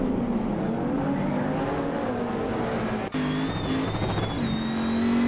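Race cars in a video game drone and rev at high pitch, steady and loud, with a sharp gear-change dip around the middle before the engine note climbs again.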